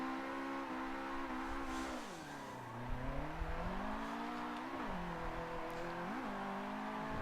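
A four-cylinder Nissan S15 drifts in Forza 7, its engine revving and shifting through gears in rising and falling sweeps, with tire noise underneath, steady and moderately loud.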